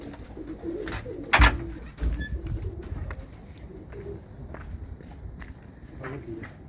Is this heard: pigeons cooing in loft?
yes